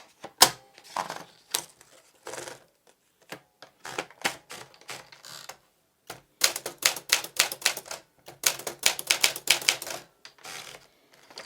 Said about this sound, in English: Now I will be typing on a coated paper with a glossy finish.